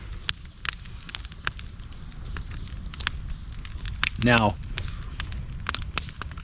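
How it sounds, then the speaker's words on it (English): Campfire outside an off-grid cabin crackling steadily, with sharp pops scattered throughout over a low roar. Someone speaks briefly partway through. "I got the campfire going pretty good right now."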